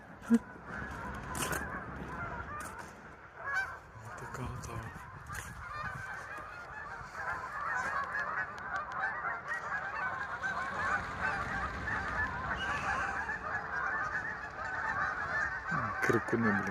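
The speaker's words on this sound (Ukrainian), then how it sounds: "Качки, гусі, ще й маленькі є навіть." A flock of geese, with ducks among them, honks continuously nearby in winter in Ottawa, overlapping calls forming a dense, noisy chorus with occasional sharper cries standing out.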